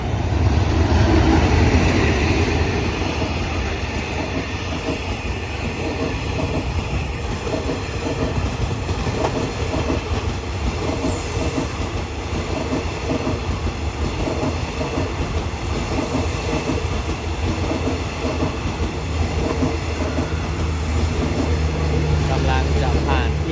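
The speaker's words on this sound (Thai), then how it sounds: "มาแล้วครับ ฮิตาชิ4506ครับ" Hitachi locomotive 4506 hauls the Thaksinarath special express from Hat Yai to Bangkok into Ban Pong station, a loud, close rumble with rhythmic wheel clatter that continues for the whole stretch while someone speaks over it.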